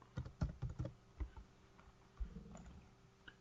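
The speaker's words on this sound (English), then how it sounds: "we'll just type in the word epilogue" A word typed on a computer keyboard: a quick burst of about half a dozen close key clicks, then a pause and a few more scattered taps, quiet and alone.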